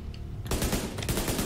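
A sudden burst of rapid gunfire in The Division video game, using incendiary ammunition, erupts after a brief quiet, loud and close, firing in quick successive shots.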